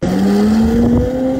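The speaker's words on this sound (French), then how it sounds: "C'est une luge à moteur." Motorised sled kart engine pulling away, a loud, continuous motor drone with its pitch climbing steadily as it drives off, close and dominant throughout.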